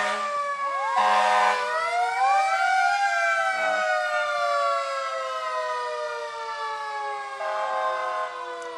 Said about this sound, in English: their sirens are loud and raucous